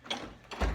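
Two quick ratchet bursts tightening fasteners on a Norton Commando motorcycle top end during a rebuild, short and close, with no talking.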